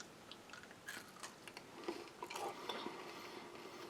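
Close crunching bites followed by chewing of crunchy-shelled mint gum from a Spanish Army ration, sharp cracks of the hard shell breaking in irregular rhythm, with faint rustling between.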